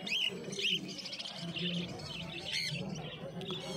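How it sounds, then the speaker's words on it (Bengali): Small budgerigars chirp and twitter in a busy, overlapping chorus, with a low coo underneath, fairly close, at the Uluberia pet market. "বদ্রি পাখি রয়েছে খুব সুন্দর"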